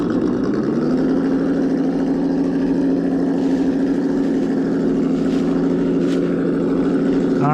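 The electric motor of a Traxxas TRX4M RC crawler whines close and loud, holding a steady, continuous hum with no voices over it.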